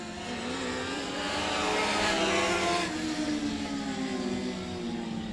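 Dirt Car Mod Light race cars roar around a dirt oval at 67 Speedway of Texarkana in an eight-lap heat, engines blending into a steady, loud drone that swells and fades slightly as the pack passes.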